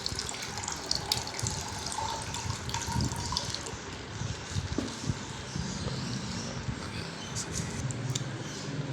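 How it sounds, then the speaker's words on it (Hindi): Liquid pouring into a glass as a drink is served to a friend at a casual gathering, a steady splashing stream lasting several seconds, fairly loud and close. "नहीं कमर साहब, मैं देता हूँ आपको डाल के"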